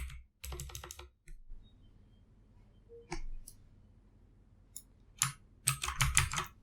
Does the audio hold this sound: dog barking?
no